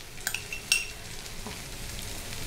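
Spanish cheese omelette cooking in a pan, a soft continuous sizzle with a few light utensil clinks and taps against the pan, fairly quiet and without voices.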